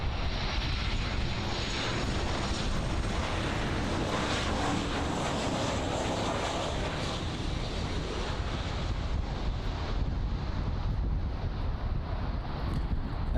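An American Airlines Boeing 737-800 on approach to runway 09 at Miami International Airport, arriving from Georgetown, makes a continuous whooshing jet roar with some wind buffeting, steady and unbroken, no talk.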